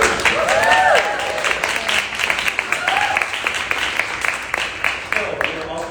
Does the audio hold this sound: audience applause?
yes